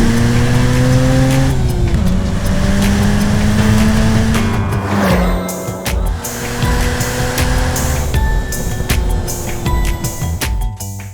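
A Mazda RX-7 Spirit R twin-turbo rotary car accelerates hard, its loud, close engine note rising in long sweeps with brief dips at gear changes before climbing again.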